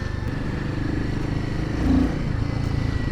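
A Royal Enfield Himalayan 450 single-cylinder adventure motorcycle on the move, heard from the rider's position: a steady, loud engine drone with wind rush and a slight swell in the middle, no talk.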